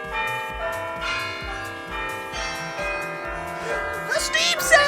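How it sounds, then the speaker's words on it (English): A bell rung to mark the Steam sale gives repeated clanging strikes whose bright, shimmering overtones ring on and overlap, over a low rhythmic thumping backdrop, growing busier toward the end. "Ringing the Steam sale bell."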